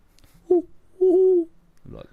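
A person imitates a barn owl with two voiced hoots at a campsite, a short one followed by a longer sustained one, close and fairly loud, with a brief vocal sound at the end.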